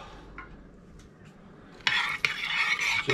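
Paprika powder being stirred into liquids for a spicy slow-cooker pineapple pork dish: quiet at first, then a close, steady scraping and swishing of the spoon against the vessel for the last second and a half.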